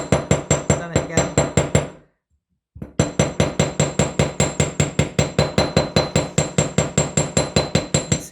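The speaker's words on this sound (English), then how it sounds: "See, I've hammered the whole shape" Steady, rapid hammering on wire to shape a pair of cat earrings, a close series of sharp metallic taps with a brief pause about two seconds in, then an even rhythm resuming.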